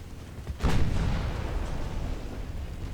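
Heavy 9-inch naval guns fire in a salvo in the warship game Ultimate Admiral Dreadnoughts, giving one loud close boom that rolls into a long low rumble.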